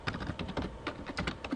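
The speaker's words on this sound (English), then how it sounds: "no harm in typing" Computer keyboard typing during a programming class, a rapid irregular run of close, crisp key clicks with no voice over it.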